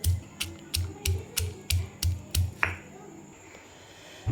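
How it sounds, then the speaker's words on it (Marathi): Spices are pounded in a mortar and pestle for a dhaba-style egg curry, giving about eight sharp, evenly spaced thuds with a bright clack on each strike. The strikes are close and loud, then stop, leaving quieter handling noise. "ह्याला आपल्याला आता कुटून घ्यायचं आहे खलबत्त्यामध्ये"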